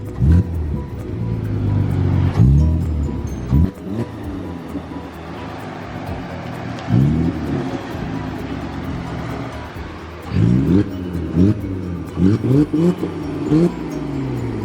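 The 3.5-liter V6 of an Infiniti G35 revs repeatedly up close, with several sharp throttle blips climbing and dropping over a rough idle, and voices speaking briefly between the revs.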